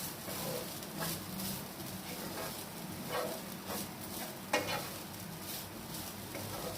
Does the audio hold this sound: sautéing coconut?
yes